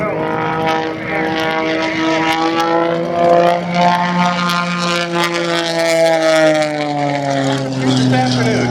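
An aerobatic propeller plane, the I-540, at the Houston air show: a loud, droning engine whose pitch slowly falls as it passes, heard under an announcer's voice over the public address.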